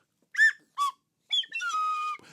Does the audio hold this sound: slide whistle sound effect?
yes